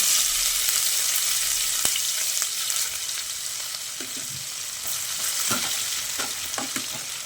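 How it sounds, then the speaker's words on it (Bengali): Onions crackle and hiss in hot frying oil with a bright, steady sizzle. Soft clicks and scrapes of stirring come near the end. "তার জন্য পেঁয়াজগুলোকে তেলের মধ্যে দিয়ে দিচ্ছি"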